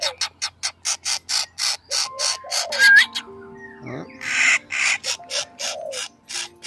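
A young choàng choạc hung bird begging for food gives a rapid, rhythmic series of short, harsh, close calls that pause briefly and then resume, with faint whistle-like notes in between.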